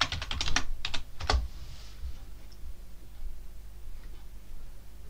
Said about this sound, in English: We're going to type in the password.